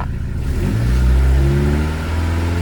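A Ford Crown Victoria engine idling and revving just after a cold start, loud and close, with a rough, raspy exhaust leak audible under the rising engine note.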